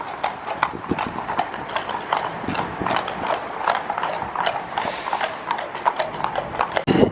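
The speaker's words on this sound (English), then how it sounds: "Oh, horse is crossing." Horse hooves clip-clop steadily across a road in an English seaside town near a pub, a brisk rhythm of sharp knocks at moderate distance with street ambience and faint voices.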